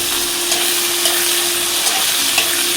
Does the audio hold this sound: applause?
no